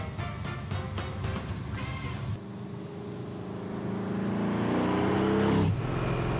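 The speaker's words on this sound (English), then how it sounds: "fire up the 64 Comet Cyclone Lightweight" A 1964 Mercury Comet Cyclone Lightweight engine idles with a steady low rumble, then revs up louder and holds before easing off, with no one speaking.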